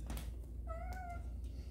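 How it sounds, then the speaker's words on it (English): A cat gives a single short meow, fairly close and clear, over a quiet background hum with a few soft knocks around it. "so you just saw my new cat right there"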